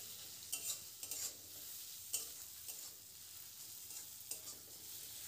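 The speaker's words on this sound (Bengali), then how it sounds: "পেঁয়াজটা দিয়ে হাই হিটে ভালো করে ভাজতে হবে।" Chopped onions, added after a little ginger, fry on high heat in a pan, giving a steady bright sizzle with intermittent scraping strokes of stirring, close and alone without any talk.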